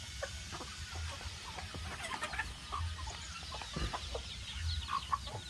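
Free-range chickens on a small backyard farm cluck in scattered, overlapping bursts, some close and some farther off, over a soft outdoor background with no talking.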